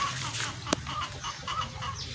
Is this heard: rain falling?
no